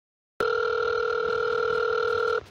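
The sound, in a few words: telephone ringing while placing a call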